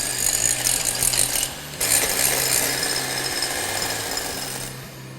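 Electric mixer beating egg whites with a drop of lemon juice for a Japanese cheesecake, a loud continuous high whir with a brief dip partway through, heard alone.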